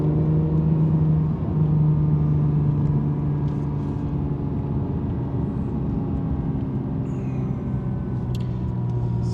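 An Acura NSX with a dual-clutch gearbox drones steadily from inside the cabin, a loud low engine hum holding its pitch with a slight dip near the start, with no voices.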